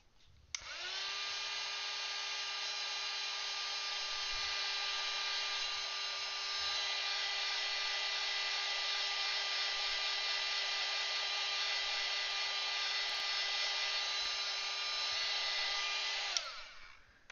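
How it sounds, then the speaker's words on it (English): A heat gun drying paint on a picture runs steadily with a high whining drone and airy hiss, starting abruptly and stopping after about sixteen seconds, nearby and continuous with no talk. "Hopefully that heat gun isn't too loud for everybody. I know it's a bit noisy"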